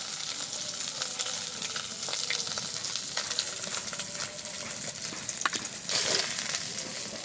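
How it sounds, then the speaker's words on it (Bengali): Fish frying in hot oil in a pan for a Bengali fish curry with raw mango, giving a steady close sizzle with scattered crackles and pops throughout, alone without talk. "এই মাছগুলোও ভেজে নিয়েছি, এবার এগুলোও তুলে নেব।"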